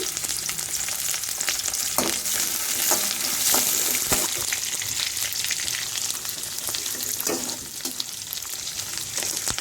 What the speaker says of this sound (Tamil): கடலைப்பருப்பு போட்டு தாளிச்சிக்கலாம். வெங்காயம், பச்சை மிளகாய், கறிவேப்பிலை,